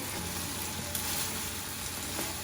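Chicken liver (kaleji) with lemon juice, coriander and green chilies cooking in ghee in a pan, giving a steady close sizzle and frying crackle with faint stirring, no talk.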